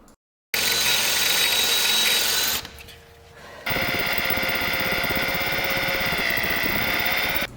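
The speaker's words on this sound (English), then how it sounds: "all 4 of these were so bad I had to drill the heads off them." A power drill grinds the heads off badly seized bolts on a Mk4 car during deferred maintenance, a loud, steady whine that runs for about two seconds, drops into a short pause, then resumes and holds to the end.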